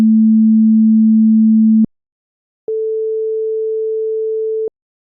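A pure sine-wave musical tone holds steadily for about two seconds, then after a short gap a second pure tone one octave higher sounds for about two seconds, clean and alone.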